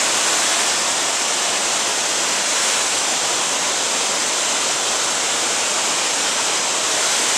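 Pailón del Diablo waterfall in Baños, Ecuador, a loud, dense, unbroken roar of rushing water filling the whole stretch with no voices.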